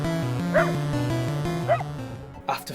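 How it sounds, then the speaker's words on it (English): Out on a snowy mountain in freezing cold, a dog gives a few short barks and yips, spaced apart over a steady musical backing. "Little did we know we would encounter a wild, abominable snow dog."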